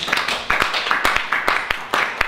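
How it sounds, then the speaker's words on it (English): Slow, steady hand clapping from a small group seated in a circle, sharp claps landing at an even unhurried beat, close and fairly loud, with faint voices between them. "Well, clap with me, sit around, clap slow."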